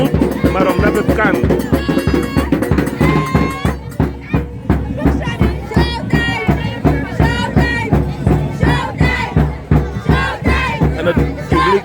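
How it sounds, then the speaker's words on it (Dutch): A crowd at a walking march in Paramaribo chants rhythmically in loud, repeated pulses, mixed with cheers and shouting, close and energetic throughout. "Je hoort hier vanuit het publiek: showtime, showtime, showtime."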